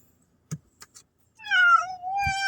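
A cat taken out cycling by the sea meows twice in clear, close, drawn-out calls after a few soft taps and knocks.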